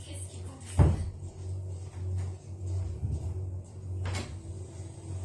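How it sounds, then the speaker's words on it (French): A door is shut indoors, giving a sharp thump near the start followed by a second knock later, over a constant low hum and some background voices. "Ferme la porte."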